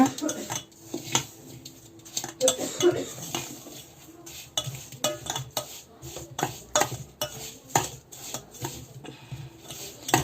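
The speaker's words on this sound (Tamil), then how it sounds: "நல்லா இந்த கட்டி கட்டியாக இல்லாமல் வந்து நல்லா வந்து மிக்ஸ் பண்ணிக்கோங்க." Rava idli batter being mixed in a bowl, with rapid, irregular scraping and clinking of a spoon against the vessel in quick bursts, close and fairly loud, with no talk.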